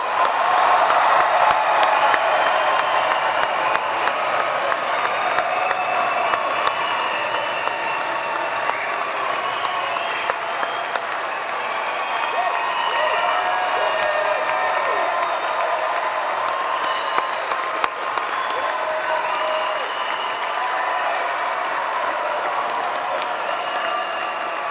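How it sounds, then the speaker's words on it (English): A large audience applauds continuously for nearly half a minute at an MBA commencement ceremony, with dense steady clapping and occasional cheers, fairly loud and sustained. "Please join us for one final round of applause"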